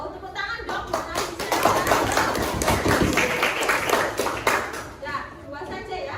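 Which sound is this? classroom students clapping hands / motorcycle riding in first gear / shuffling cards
classroom students clapping hands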